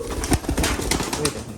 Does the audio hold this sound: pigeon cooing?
yes